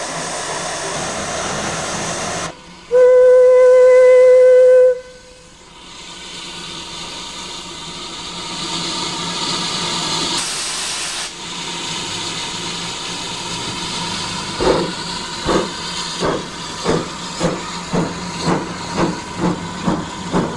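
Steam locomotive number 22 at Springwell Yard hisses loudly and sounds a long whistle, then steady venting gives way to a building rhythm of regular, closely spaced exhaust chuffs as it prepares to depart.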